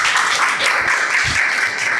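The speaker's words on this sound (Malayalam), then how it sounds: "ഒരു ക്ലാപ്പ് കൊടുത്തേ" An audience at a church gathering bursts into applause, a dense, steady patter of many hands clapping throughout, close and loud with no voices standing out.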